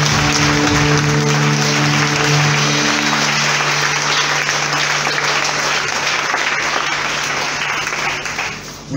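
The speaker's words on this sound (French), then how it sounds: "Acclame Jésus." A church congregation applauds together in dense, continuous clapping. A sustained low musical tone sounds underneath during the first half, and the applause thins slightly just before the end.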